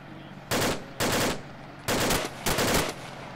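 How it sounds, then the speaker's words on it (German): Gunfire in the ArmA 2 video game, four loud bursts of rapid automatic shots, each about a quarter to half second long, separated by brief pauses. "Oh, Beschuss?"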